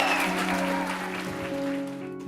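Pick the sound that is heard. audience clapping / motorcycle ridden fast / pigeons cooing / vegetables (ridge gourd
audience clapping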